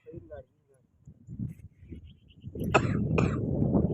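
A person with a cold coughs and clears their throat a few times at close range, followed by a murmur of nearby voices.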